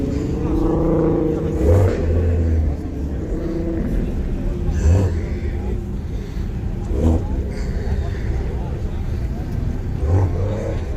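A car's engine revs repeatedly at a nighttime-style car meet just before a burnout, loud rumbling bursts rising and falling amid crowd noise and people talking nearby.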